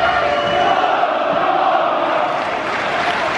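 A large indoor wrestling crowd at a Progress Wrestling event at Wembley, a dense, steady roar of many voices heard close and continuous, with no single speaker standing out.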